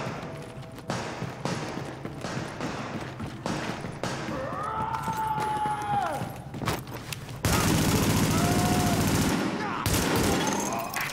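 Heavy gunfire from a rooftop gunner in the video game The Division comes as repeated sharp cracks and bursts, growing to a dense, louder stretch of fire near the end, mixed with game effects and voices talking.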